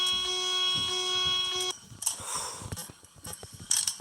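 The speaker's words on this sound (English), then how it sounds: "Is there any, like, penalty to using the alarm for too long?" Electronic alarm in the horror video game Five Nights at Smudger's 2: a steady, loud buzzing tone holds for nearly two seconds then cuts off, followed by clanking mechanical noises and brief beeps, with no talk.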